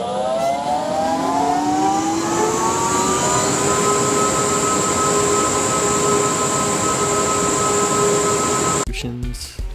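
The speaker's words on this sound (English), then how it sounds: "You hear how loud these flow hoods are?" Laminar flow hoods in a sterile lab running loudly, a steady broadband whoosh with a sustained high whine and several humming tones that hold evenly for several seconds, followed by a brief clatter at the end.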